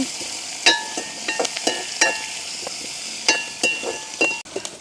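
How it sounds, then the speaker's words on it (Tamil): Onions, green chillies and curry leaves fry in a pan with a steady soft sizzle, broken by irregular clinks and scrapes of a spoon stirring against the metal. "கருவேப்பமில நல்ல வடிவாக பிராட்டி விடுவோம் வெங்காயம் வச்சோம்னா நல்லா வதங்கட்டுக்கு"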